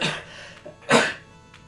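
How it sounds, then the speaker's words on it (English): A single sneeze from a person at a computer, one sharp burst after a softer intake and short throat sound, close and fairly loud. "sorry about the sneeze, guys."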